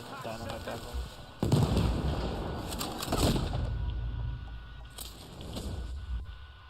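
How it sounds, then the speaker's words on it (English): Dynamite blasts in the Western shooter Red Dead Online, heavy booms and crackling bursts erupting repeatedly amid gunfire, with people talking over the noise. "just throwing the dynamite at them"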